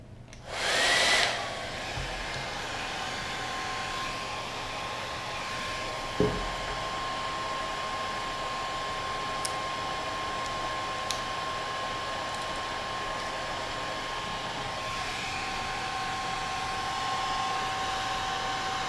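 A heat gun blows steadily on a Rolex Explorer 214270 bracelet screw, a continuous loud whooshing roar that starts abruptly and holds nearly unchanged throughout, with no voices.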